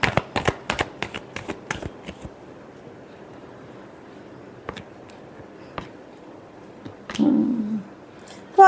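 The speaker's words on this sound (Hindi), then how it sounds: "Last shuffle." Tarot cards being shuffled by hand: a quick run of crisp riffling snaps at the start, then sparse soft taps and a brief rustle, close and fairly faint, with no talk.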